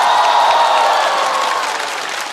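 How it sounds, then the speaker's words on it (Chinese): Studio audience at a talk show applauding, a dense, loud, steady wash of clapping that tapers slightly toward the end. "热烈的掌声送给各位"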